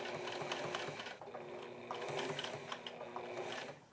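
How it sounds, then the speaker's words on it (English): Sewing machine running steadily while stitching down a shirt placket, a close, continuous mechanical whir with rhythmic needle clatter that briefly eases and then resumes. "And now finally stitch this placket all down."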